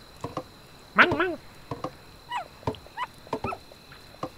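A dog in the Kingdom Two Crowns Dire Island game gives a string of short, sharp yips and barks, one louder bark standing out among quick, light game effects.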